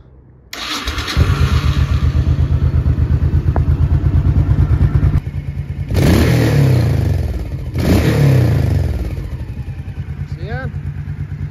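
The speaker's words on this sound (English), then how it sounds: "it starts up great even when it's cold" An old barn-find motorcycle engine fires up and settles into a steady, loud idle with a dense rhythmic thump, then is blipped and revved twice before dropping back to a running idle.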